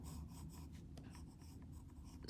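Pencil shading on paper around a Zentangle tile, a faint soft scratching with short repeated strokes close by.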